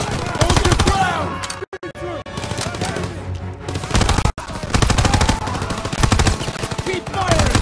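Sustained machine gun fire in Call of Duty WWII, loud rapid bursts with brief gaps, mixed with battle noise and shouted voices.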